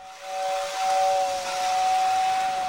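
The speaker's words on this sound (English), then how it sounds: "like the buzzer sound for the horn or the air whistle" A vintage Lionel toy train's air whistle gives a steady, breathy hiss with a clear, sustained tone running through it, heard up close and alone.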